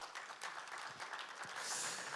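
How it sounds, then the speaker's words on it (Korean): Faint, steady applause from a seated audience welcoming two youth representatives onto the stage at the founding convention of the Gwangbok 100 Years National Companionship movement. It sounds distant and continuous, with no talk over it. "따뜻한 박수로 맞아 주십시오."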